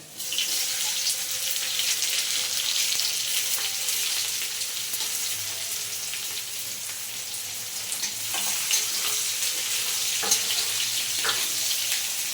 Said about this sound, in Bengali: আর দিয়ে দিচ্ছি কিছু পরিমাণ কোচানো পেঁয়াজ।